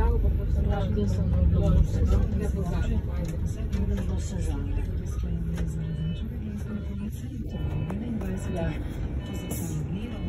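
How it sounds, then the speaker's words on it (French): The interior of a city bus in motion, with a continuous engine drone and rumble, faint beeps, and a person speaking over it at times. "J'ai pris le bus tranquille."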